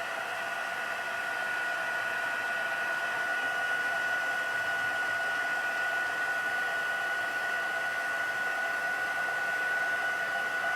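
A heat gun embossing powder on cotton paper, giving a steady close blowing hiss with a fixed whine held under it, running continuously at constant loudness.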